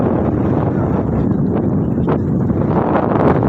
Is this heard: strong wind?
yes